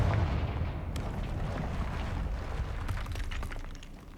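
Confringo fire spell blasting in the Hogwarts Legacy game: a dense, rumbling explosive burst with crackling debris, loud at the start and sustained throughout.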